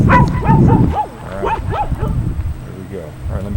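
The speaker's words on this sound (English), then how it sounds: "the dog bark" A dog barking outdoors while walking around town in New Hampshire, several quick close barks in a burst, then softer yips and whimpers trailing off.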